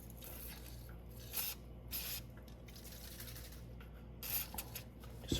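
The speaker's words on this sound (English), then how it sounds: "Okay, so I'm gonna spray this ball joint down." Short hissing bursts of penetrating spray are aimed at the nut of a lower ball joint on a Nissan Rogue, several separate spurts close by and fairly quiet in a garage.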